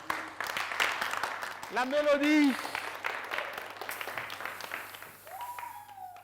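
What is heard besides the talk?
studio audience applause for an arriving artist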